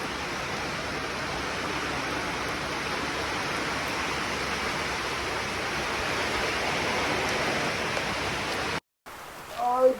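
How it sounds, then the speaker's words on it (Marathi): Steady, dense hiss of rain falls continuously for several seconds, then cuts off abruptly before a brief voice at the end. "आणि आता पाऊस"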